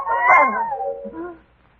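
A cat meows in an old-time radio drama, one drawn-out, falling cry heard close and loud, with a short second note trailing off at the end.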